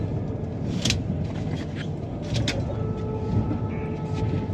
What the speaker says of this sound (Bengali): দেখো হাওড়া স্টেশনে ঢুকছে ট্রেনটা